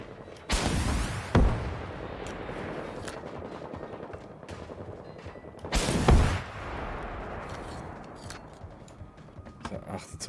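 Gunfire in the video game Generation Zero: two loud bursts of shots around one and six seconds, with a steady game ambience between them and a voice talking over it.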